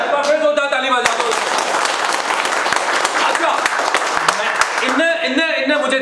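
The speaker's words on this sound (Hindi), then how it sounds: "जोरदार ताली बजा दो" Audience applause in a class for computer hardware technicians, a loud dense wash of clapping through the middle with voices talking over it at the start and end.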